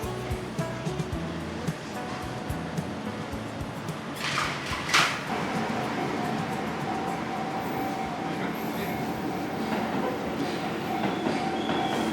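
A train rumbles past at close range at a railroad crossing near Higashi-Azuma Station in Sumida, Tokyo, wheels clattering over the rails with a brief high squeal, the roar lingering steadily as it continues by.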